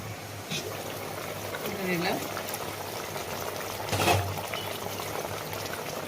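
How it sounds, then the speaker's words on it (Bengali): Hilsa fish curry with eggplant and slit green chilies bubbling in a pot, a steady close simmering burble with a low hum underneath and a couple of brief stirring or clinking touches. "বেগুনগুলো দিয়ে দিচ্ছি ফুট হবে"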